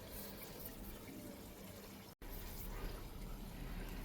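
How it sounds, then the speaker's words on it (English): Running water rinsing soil off the sides of a succulent planter, a steady close hiss of flowing water with a brief cut midway and no talk. "I'm just gonna rinse the soil off the sides a little bit here."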